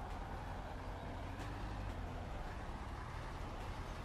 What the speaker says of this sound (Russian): Ну и машина начинает глохнуть.